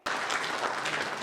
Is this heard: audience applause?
yes